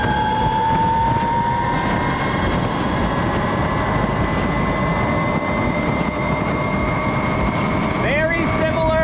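Rawrr Mantis X electric bike accelerating in racing mode, with a steady high electric motor whine that climbs slightly in pitch, carried over a constant heavy roar of wind and road noise.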